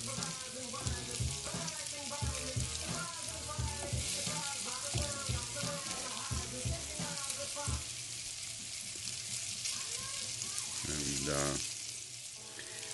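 Floured chicken tenders fry in a pan with a steady, crackling sizzle that runs throughout, while a voice talks over the first part and a brief clatter comes near the end.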